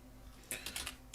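Several quick keystrokes on a computer keyboard as a command is typed, soft close clicks in a short burst after a brief pause, quiet with no voices.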